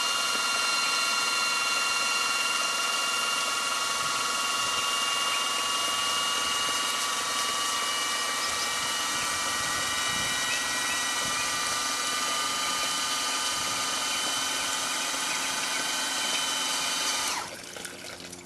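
A pump flushes a Takagi Junior tankless water heater, giving a steady, loud, continuous whine with strong tonal hum that runs unchanged for about seventeen seconds before abruptly cutting off near the end.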